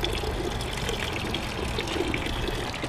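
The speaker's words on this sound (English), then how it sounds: "So we're just gonna put partial water in there, right?" Water pours steadily into a brewing container, a continuous splashing trickle with a hollow, filling quality, close by and without any talking.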